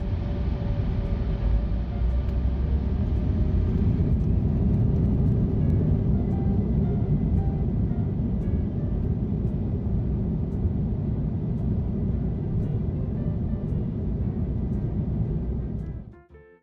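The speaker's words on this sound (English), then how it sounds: "it didn't take us long to traverse LGA and then begin the takeoff roll." An American Airlines jet airliner on its takeoff roll at LaGuardia, heard from the cabin as a loud, steady engine roar and rumble that holds evenly and then cuts away at the end.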